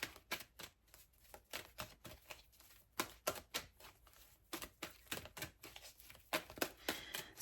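Tarot cards are shuffled close and quietly in a string of crisp riffling bursts, irregular but almost continuous, each a short papery flutter with small gaps between, and no voices.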